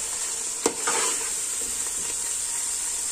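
Aloo keema, minced meat with potatoes, frying in masala in a pan: a steady close sizzle with stirring scrapes and a sharp clink early on.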